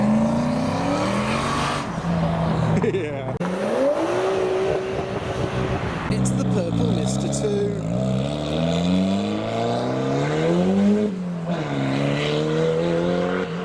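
A turbocharged Hemi V8 car with a large Garrett turbo accelerates at a car meet, engine note climbing and falling through several revving pulls, loud and close, with brief talk over it.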